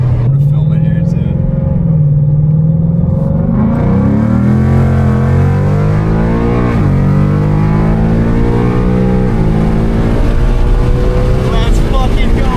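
A loud Ford Mustang engine revs hard and climbs in pitch as the car pulls out of a turn from slow speed, heard up close from inside with a person talking over it.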